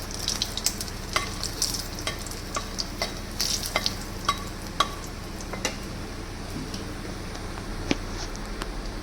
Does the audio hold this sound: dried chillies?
yes